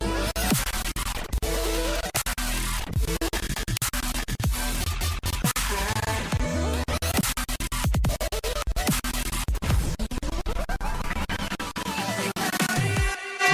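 Dense electronic bass music production with synth chords morphing into a heavy bass, constant loud full mix with sweeping, shifting layers throughout and no voices.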